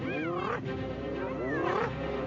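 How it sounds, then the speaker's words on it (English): A lion attacking hyena pups in the wild, with growls and roars, shrill whining hyena cries, and yelps layered over one another in a dense, continuous close-up scuffle. "The lion again attacks one of the pups."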